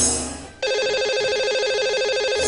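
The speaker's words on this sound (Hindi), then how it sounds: "लगाते हैं इन्हें अब कॉल।" Telephone ringing on a call placed to a radio show caller, a steady repeating electronic ring tone that sounds loud and close, following a short burst of other sound at the start, with no voices over it.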